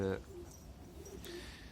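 Elvan pigeons coo softly in a loft, a low, muffled murmur that runs steadily under faint background noise after a brief louder sound at the start.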